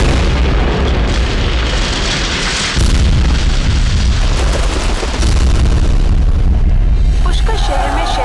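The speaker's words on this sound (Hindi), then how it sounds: "शहर की 5 अलग-अलग जगहों पर आतंकवादियों ने सीरियल बॉम्ब धमाके किए हैं" Loud, rumbling serial bomb explosions roar continuously, with heavy booming blasts and crackling debris filling the air throughout.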